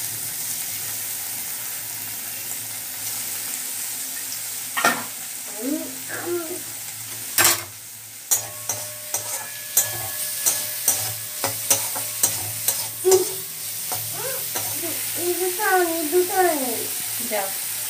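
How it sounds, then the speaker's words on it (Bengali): Prawns seasoned with turmeric and salt frying in a home kitchen pan, a steady sizzle with scattered sharp spatula clinks and scraping stirs growing busier toward the end, and faint background voices. "তো চলো চিংড়ি মাছগুলো ঝটপট ভেজে নিই।"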